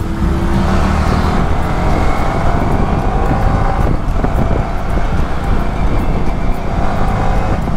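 A KTM 390 motorcycle being ridden on the road, its engine droning steadily beneath heavy wind rush across the microphone, loud and constant with no break.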